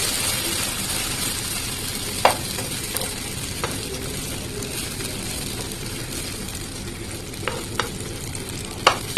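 A potato mixture fries in a little soybean oil in a pan on a gas stove, with a continuous close sizzle and several sharp spoon clicks and scrapes against the pan. No one speaks.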